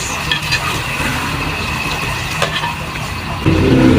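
Garlic and onion sauté in a pan, giving a steady close sizzle with soft stirring scrapes, and the frying swells louder near the end as more goes into the pan.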